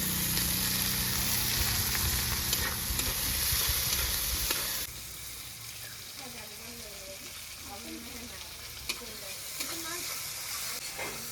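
Onion, garlic and tomato frying in a pan for masala dal, with a loud steady sizzle that drops to a softer crackling fry while stirring scrapes and bumps come through.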